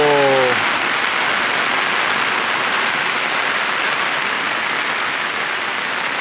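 Steady rain pours down on a farm, a dense, even hiss that fills the whole stretch without letting up, with a brief low tonal sound right at the start.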